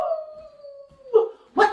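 At a children's reading day, people imitate a bear howling with their voices: one long wavering howl, a pause, then two short, louder vocal bursts.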